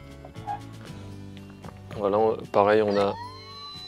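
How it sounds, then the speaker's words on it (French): Toy fire truck from an unboxing playing a short electronic two-tone siren, a few warbling wails close and fairly loud, with a French-speaking voice talking around it. "on a la sirène"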